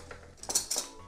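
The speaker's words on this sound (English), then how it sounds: "Mash this up with the spoon." A spoon mashing bananas in a bowl, a few short soft clinks and squishy scrapes, close and quiet, over in about a second.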